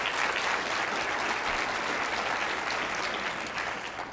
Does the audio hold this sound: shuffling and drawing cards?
no